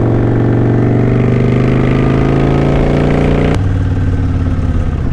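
Motorcycle engine running steadily and loudly up close, its droning tone shifting abruptly partway through as the rider downshifts from fifth back toward first, using engine braking to slow.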